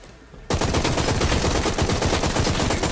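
Sustained automatic fire from a Z92 gun in the game Hawked, starting abruptly after a quiet moment and continuing as a loud, rapid, unbroken burst of shots.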